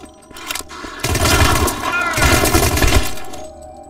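Rapid bursts of game gunfire crackle loudly for about two seconds, pause briefly, then return in a second dense burst, with a voice speaking faintly between and under the shots.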